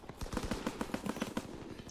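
Rapid automatic gunfire in a World War II shooter game, likely Call of Duty WWII or Battlefield 1, rattling in a steady stream of sharp, close bursts for about two seconds with no speech over it.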